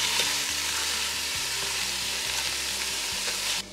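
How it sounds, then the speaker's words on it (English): Ground turkey sizzling and frying in a pan, a steady crackling hiss with repeated scraping stirs of a utensil across the pan, loud and close. "now we're gonna add in our ground turkey"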